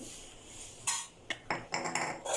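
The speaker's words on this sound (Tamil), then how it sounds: "எல்லாத்தையும் ஒரு பவுலில் போட்டு மிக்ஸ் பண்ணி வச்சுக்கலாம்." Ingredients for cabbage pakoda, with cabbage, curry leaves and ginger, are mixed in a bowl, giving a few close clinks and scraping knocks of a utensil against the bowl in short uneven bursts.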